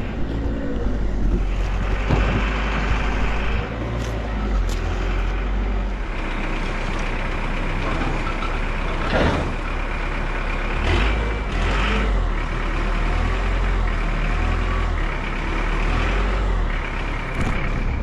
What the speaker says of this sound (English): After all that, our tow truck finally shows up.